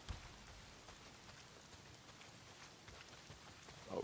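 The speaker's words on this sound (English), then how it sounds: "Well, not if it's pissing down rain." Steady rain pours down in the open-world game Days Gone, a dense, even hiss of drops spread evenly over the whole stretch, fairly faint, with no talk.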